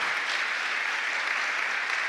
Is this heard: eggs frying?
no